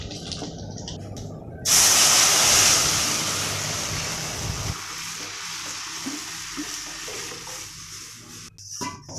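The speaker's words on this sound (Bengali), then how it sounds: "তো এখন এই ডালটা সম্বারা দিয়ে দেবো" Hot oil tempered with dried red chilli, five-spice and bay leaf is poured into dal, giving a sudden loud hissing sizzle that slowly fades into softer bubbling, close up.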